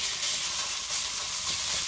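Ground turkey sizzles in about a teaspoon of oil in a pot, a steady, even frying hiss that holds unbroken throughout with no voices.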